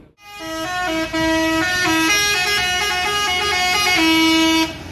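A Pangeran intercity bus pulls in on a morning departure to Jakarta, sounding a loud, continuous musical multi-tone horn that shifts through a melody for several seconds.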